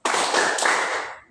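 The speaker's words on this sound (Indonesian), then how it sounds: "Oke, kita tepuk fokus ya. Mari tepuk fokus." A group claps together in the tepuk fokus clap game, making a loud, dense burst of hand claps that holds for just over a second before tailing off.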